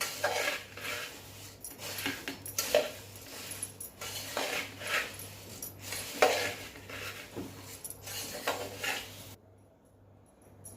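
Puffed rice bhadang being tossed and mixed with powdered sugar in a metal pan, with repeated scraping, rattling and clinking of a spoon against the vessel over a low steady hum, stopping near the end.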